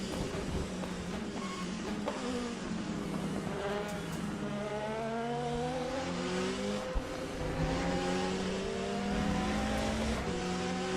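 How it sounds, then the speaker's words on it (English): Engine note of a GT Corvette race car in the Le Mans Ultimate racing sim, a steady loud drone with rising and falling gear-change sweeps through the whole stretch, no talk over it. "The GT Corvette sounds better than the LN GT3"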